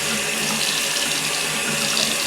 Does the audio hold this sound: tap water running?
yes